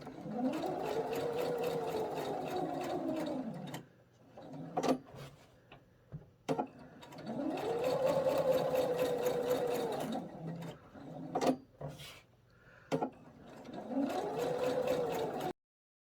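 An embroidery machine stitches on organza and net with soluble stabilizer, its whirring, humming runs of rapid needle strokes starting and stopping in bursts, separated by clicks and quiet gaps, close by.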